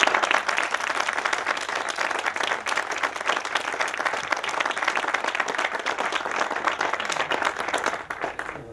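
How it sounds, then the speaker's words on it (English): Sustained audience applause at a graduation ceremony, a dense, steady wash of many hands clapping that holds for several seconds before tapering off at the end. "Big applause."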